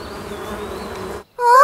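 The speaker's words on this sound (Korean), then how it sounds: "벌들이잖아." Cartoon bees buzz in a wavering, continuous drone in a Korean animated children's series, then cut off abruptly before a bright burst of other sound follows.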